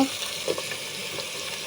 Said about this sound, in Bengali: আমি এখন তেল দিয়ে দিচ্ছি, পেঁয়াজগুলো দিয়ে দিচ্ছি।